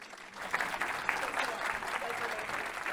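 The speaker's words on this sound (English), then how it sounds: "Please give Reba, Troy, and Leah a huge round of applause." An audience at a panel discussion claps steadily, dense applause filling the whole stretch at a fairly even level.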